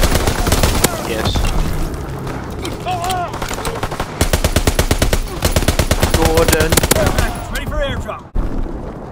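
Call of Duty WWII free-for-all match on a map with a ball turret: loud, rapid bursts of automatic fire and scattered single shots, densely repeated over several seconds, with a voice speaking underneath.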